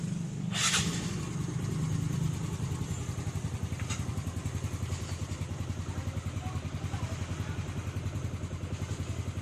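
An alarm-fitted motorcycle's engine idles steadily and close by with a rhythmic low chug, after a brief sharp clatter near the start.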